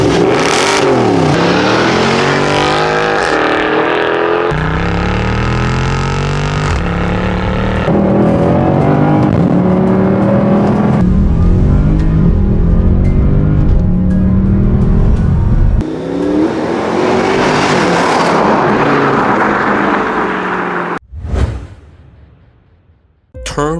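A Mercedes W204 C63 AMG 507 with its 6.2-liter M156 V8 revving and accelerating hard, a loud, close, deep engine roar rising through several gears, then cutting off abruptly near the end.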